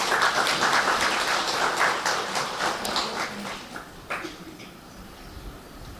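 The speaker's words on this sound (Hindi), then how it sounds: "अपने लिए ताली बजा सकते हैं।" A seated audience at a spiritual gathering applauds with a dense patter of many hands that gradually thins and fades toward the end.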